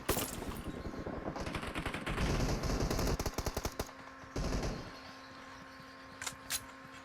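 PUBG mobile gunfire on a Xiaomi Mi 10T Pro: rapid automatic bursts and single shots crackle loudly in clusters, pausing between volleys, with fainter shots later.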